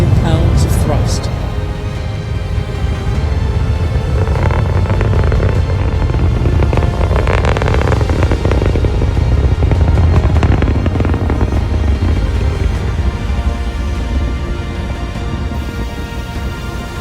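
Nine first-stage rocket engines of the NASA PACE mission launch roar with 1.7 million pounds of thrust, a loud, continuous broadband rumble sustained throughout, with voices talking over it.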